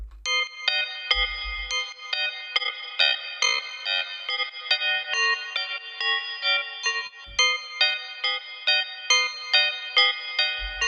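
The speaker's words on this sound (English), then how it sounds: "As you can hear, we are getting this vibrato effect." Bright, shimmering synth chords with a wavering, warbling vibrato from a frequency shifter effect placed before reverb, echoey tail, playing continuously with a few low thumps.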